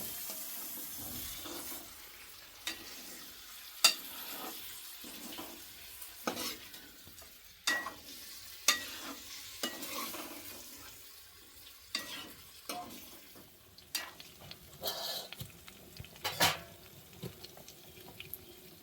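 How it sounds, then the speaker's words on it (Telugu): Chicken being stirred with ginger-garlic paste in a pot in a village kitchen, with irregular scraping and clacking strikes spread across the clip over a low background hiss, no talking. "చికెన్లోకి అల్లం వెల్లుల్లి పేస్ట్ పట్టేలాగా బాగా కలుపుతాను"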